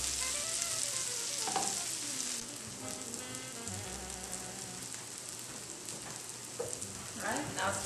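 Tofu scramble sizzles steadily in a cast iron skillet, a loud continuous frying hiss with a few scraping stirs of a utensil near the start and end, and no talk.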